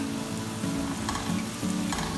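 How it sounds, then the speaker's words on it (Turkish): Zucchini flesh sizzles in a pan with olive oil, garlic and dill as it is sautéed, a steady close frying crackle with bursts of stirring and no talk. "Zeytinyağı, tuz, karabiberle güzelce soteledim."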